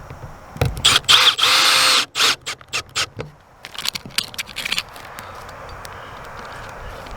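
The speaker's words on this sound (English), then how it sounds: "Last couple screws going in." A power driver sinks screws into an RV skylight frame in short bursts, with a longer whir, then rapid stuttering pulses and scraping, close and fairly loud.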